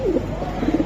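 Pigeons coo in soft, low, rolling phrases, a burst near the start and another toward the end, close by with a steady hum behind.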